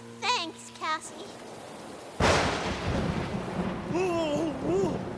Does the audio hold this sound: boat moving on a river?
no